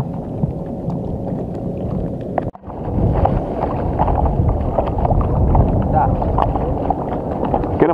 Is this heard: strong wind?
yes